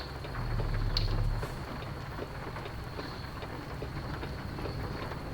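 Steady rain hisses throughout in a video game, with a low rumble of thunder swelling in the first second and a half before settling back into the downpour.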